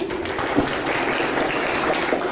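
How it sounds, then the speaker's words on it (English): Steady applause from a crowd, dense even clapping continuing throughout without pause. "Shall we all give a round of applause for Jordan, please?"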